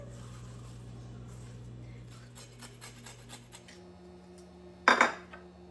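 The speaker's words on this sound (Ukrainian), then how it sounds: "Яблуко можете нарізати будь-якими шматочками, які вам подобаються" A knife slicing an apple into pieces on a board, several soft scraping cuts followed by a sharper clatter near the end, faint and close with a low background hum.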